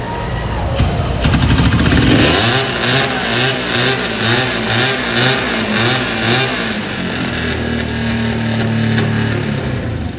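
A vintage Weslake Triton motorcycle engine cranks, catches and revs up loudly and close by, then settles into a steady, throbbing idle with a rhythmic pulse.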